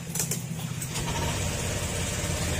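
A Honda Click scooter engine starts automatically on turning the key and settles into a steady idle, a continuous mid-pitched hum with light rattling, fairly close.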